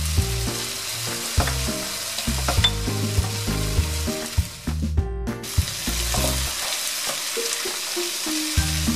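Onion and cumin fry in a pan for ginger chicken, giving a loud, close, steady sizzle broken by repeated scraping stirs, with a brief quieter gap midway and no talk.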